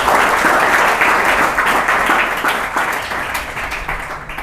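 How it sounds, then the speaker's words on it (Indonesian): An audience at a Ramadan school event at an international school breaks into sustained, loud applause, dense clapping that continues across the whole stretch and gradually eases slightly toward the end. "tepuk tangan dong untuk beliau"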